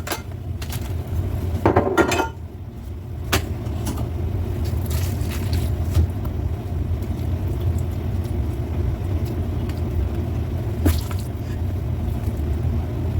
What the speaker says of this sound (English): We're just gonna add that to a freezer safe container. In this case, it's gonna be a glass one.